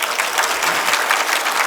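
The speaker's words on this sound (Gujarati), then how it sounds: "તાળી પાડો." Dense, loud applause from a large gathering at a religious satsang discourse in Surat, continuous rapid clapping close up with no pauses.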